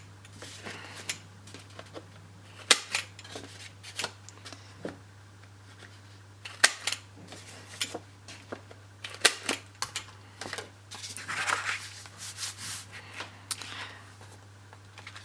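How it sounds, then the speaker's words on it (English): Corner cutter punching the corners of card, a series of sharp clicks and snaps scattered across the clip with handling rustles between them, close and moderately loud over a steady low hum. "just using a corner cutter, I'm just going to place inside"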